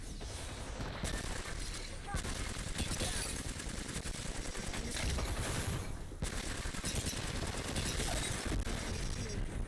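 Video game shooter gunfire fills the scene in loud, rapid automatic bursts and fusillades, nearly continuous with only brief gaps between volleys.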